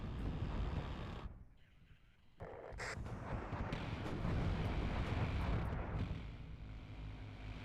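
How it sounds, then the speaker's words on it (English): Missile explosions in WARNO, a deep rumbling blast that drops away briefly, then returns as a long roaring, crackling swell of multiple impacts with sharp bursts layered over a heavy low-end drone. "the missile squadron's got us"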